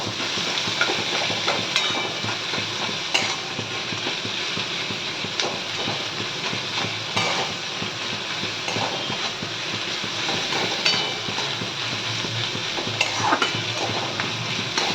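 Onions with a pinch of salt fry steadily in a pan for mutton curry, a constant close sizzle with occasional scraping stirs and clinks throughout, no talking.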